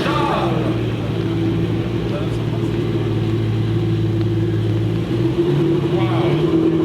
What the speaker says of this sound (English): Class is the Ferrari 512 BBLM, which is scooping up the stones as it approaches